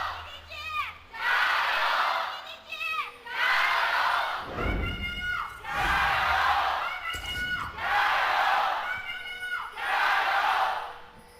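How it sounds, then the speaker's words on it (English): A live esports arena crowd at an LPL League of Legends match between RW and EDG chants and cheers in loud rhythmic waves, rising and falling in repeated bursts with thumping noisemakers, filling the hall. "It's time to hear from the crowd who's going to win this matchup."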